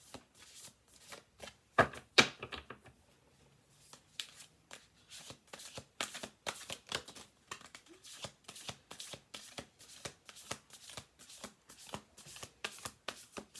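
A slightly sticky Fated Encounter tarot-style card deck is shuffled and handled up close, with a burst of riffling followed by a long run of quick, rhythmic card slaps and shuffles.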